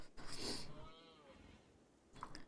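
A single drawn-out moo from a cow in RimWorld, faint and low, fading out over about a second, with a few soft clicks around it.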